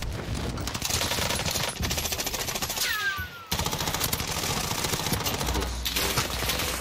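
Sustained automatic weapon fire in a video game firefight, fast rhythmic rattling bursts that are loud and close, broken by a brief gap, then resuming under game effects and a rising whistle-like tone.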